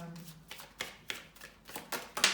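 Tarot cards being shuffled by hand, a rhythmic series of about eight quick riffling bursts, close and crisp, with a soft voice faintly underneath.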